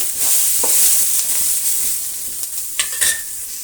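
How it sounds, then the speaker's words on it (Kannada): Bitter gourd masala ingredients frying in a pan, a bright steady hiss of sizzling oil punctuated by a few sharp scraping clicks of a spatula toward the end. "ಇದನ್ನು ಕೂಡ ಫ್ರೈ ಮಾಡ್ಕೊಳ್ಳೋಣ ಚೆನ್ನಾಗಿ ಫ್ರೈ ಮಾಡಿಕೊಂಡು"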